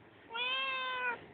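A single drawn-out meow, clear and fairly close, lasting under a second against a quiet background.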